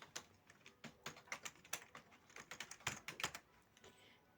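Computer keyboard keys clack in short uneven bursts as code is typed, crisp close taps with brief gaps, quiet overall and with no voices.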